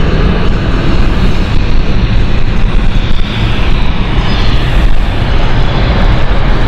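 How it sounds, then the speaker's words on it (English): A Dash 8 turboprop landing at London City Airport makes a loud, steady engine roar that holds close and constant, with broadband rushing noise and no talk. "This is a lovely Dash 8 coming in as number 1 now."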